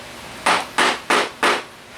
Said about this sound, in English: hammer it in, and it's not going to be straight. This is their Artisan hammer. It's a Japanese style hammer.